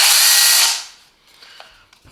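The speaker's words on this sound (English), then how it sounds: "It is a robust cordless pruning saw." A Parkside 12V cordless pruning saw cuts through wood with a loud, buzzing motor whine for under a second, then winds down to quiet with faint clicks.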